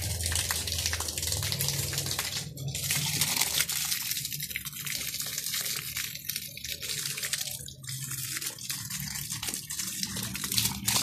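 Water gushing steadily from a 1100 GPH 12V bilge pump running straight off two solar panels without a battery, a continuous loud splashing rush with no pauses.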